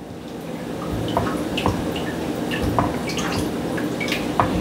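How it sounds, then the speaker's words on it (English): Sauce for baked mac and cheese with bacon and jalapeño heating in a pot toward a simmer, irregular small popping bubbles and drips over a steady low hiss, close and continuous, with no talking. "come up to a nice little simmer."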